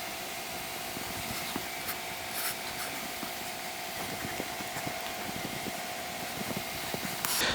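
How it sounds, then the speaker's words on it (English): A cloth steadily rubs stain finish into the body of an Elysium Firehawk guitar for a satin finish, making a continuous soft scrubbing hiss with faint rhythmic strokes and a low background hum. "And you just rub this in,"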